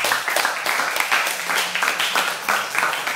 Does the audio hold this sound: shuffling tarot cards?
no